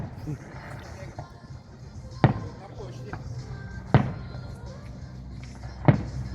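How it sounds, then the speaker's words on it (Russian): Three sharp booming firework bursts a couple of seconds apart, echoing over a murmur of nearby voices and background noise. "Ну вот даже здесь салют есть."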